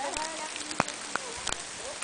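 Steady rain falling during an outdoor walking event in Manoel Ribas, a soft continuous hiss with a few sharp drop or knock sounds, close by, with no talk.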